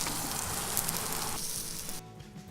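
Steaks sizzling on a hot cooking surface, a loud, steady hiss that drops noticeably partway through and fades sharply near the end as the thinner cuts come off the heat.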